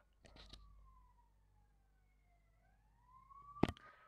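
Emergency siren from an ambulance passing outside a home, a faint wailing tone rising and falling at a distance, with a couple of short knocks before it and a louder thump near the end.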